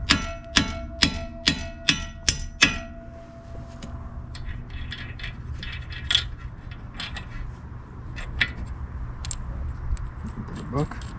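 Sharp metallic hammer blows strike the CV axle nut of a 2019 Chevrolet Spark, about seven evenly spaced ringing hits close up in the first few seconds, then scattered lighter clinks against a quiet workshop background.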